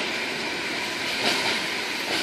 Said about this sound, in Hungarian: ilyen hosszú vonatot még nem láttam.